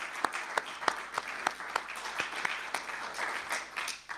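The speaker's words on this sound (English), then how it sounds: "I just want to, applaud them once again" Audience applause for the organizers at the close of the Distribits 2025 event, a thin, moderately faint patter of clapping with distinct individual claps spaced through the crowd sound.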